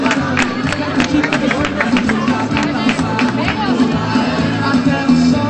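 A crowd at a night-time race in Santiago del Teide applauding veteran male runners: loud, continuous clapping and crowd noise, with voices talking under it.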